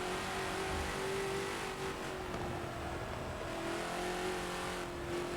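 TNT GT40 race car in a Forza game on the old Le Mans Mulsanne track, a steady droning engine note with faint tire noise underneath, continuous and moderately loud.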